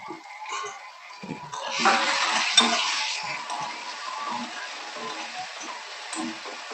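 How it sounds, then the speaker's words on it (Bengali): A utensil stirs Bengali-style mixed vegetables in a pan over low heat, scraping and clinking up close over a steady sizzle, loudest for a few seconds before settling into quieter stirring. "এবার এটাকে ভালো করে নাড়বো"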